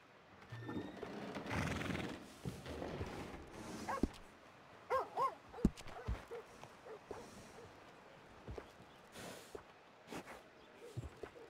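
Horses in the Red Dead Redemption 2 video game whinny and neigh, with scattered hoof clops and soft movement sounds mixed with ambient game noise over several seconds, moderately loud at times.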